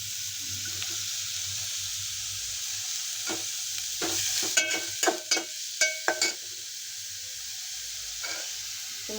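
Chopped onion, cabbage and capsicum frying in oil with cumin for Manchurian bhaji, a soft continuous sizzle with a brief run of clinking utensil strikes against the pan midway, nearby, no talking.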